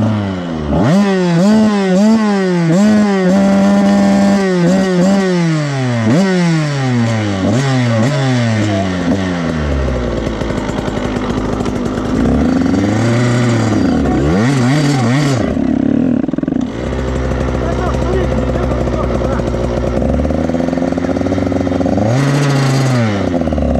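A motorbike on a rocky forest trail revs hard again and again, its engine pitch climbing and falling in rapid repeated surges, loud and close, with scraping and clattering underneath and no talk.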